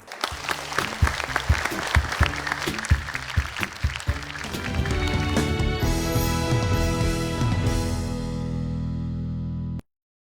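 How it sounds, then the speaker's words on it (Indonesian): A studio audience on an Indonesian television talk show claps in a full burst of applause. Loud, sustained music then swells over it and cuts off abruptly near the end. "sementara itu dulu kita berikan tepuk tangan"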